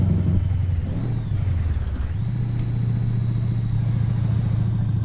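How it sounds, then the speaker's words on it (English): Deep, loud engine drone of a Mack Superliner with the E9 engine in American Truck Simulator, dipping briefly as the revs drop and then climbing back to a steady, rumbling hum, with no voices. "I love listening to this loud, this engine."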